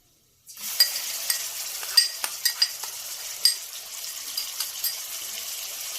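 Garlic and ginger paste fries with cumin in a pan. After a brief silence a close, crisp sizzle starts, broken by scattered crackles and spoon scrapes and clinks as it is stirred.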